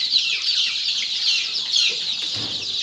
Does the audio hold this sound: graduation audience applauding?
no